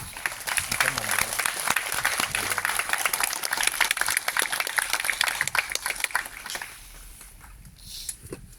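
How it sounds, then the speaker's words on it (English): A film-festival audience gives a warm round of applause for a film director after a screening, brisk clapping from many hands that runs steadily for several seconds, then drops off abruptly into quiet room noise. "give a warm round of applause to the director, Panek Ratanaruwa"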